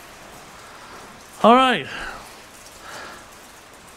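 Steady rain falls outdoors near a shop yard, a soft, even hiss throughout, briefly interrupted by someone saying a couple of words.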